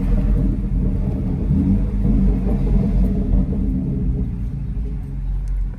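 A bagged BMW X3M fitted with a T51R turbo rumbles steadily, a deep, loud, close low-end drone that holds without pause for several seconds.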